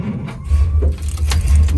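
A 1959 Plymouth Suburban's engine cranks and catches, with a loud low rumble swelling up and running steadily amid some rattling and jangling, close by and with no one talking.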